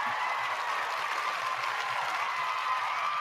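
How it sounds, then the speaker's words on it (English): A steady round of applause, many hands clapping in a dense, even patter at moderate volume, sustained without a break and heard alone with no voices over it. "Let me give y'all, my critics, a round of applause."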